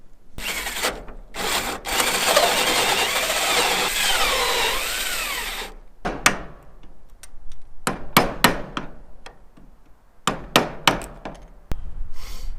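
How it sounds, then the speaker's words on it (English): Wood being chiseled out by hand to recess a flush mount trailer anchor: a stretch of steady scraping and rubbing, then a run of sharp, close mallet or hammer strikes at an irregular pace, with no talking. "It's not very hard to chisel it out."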